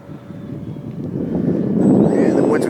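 A Freewing T-33/P-80 Shooting Star RC electric ducted-fan model jet landing, a steady whooshing turbine-like whine that swells slightly as it comes closer, with wind noise on the microphone.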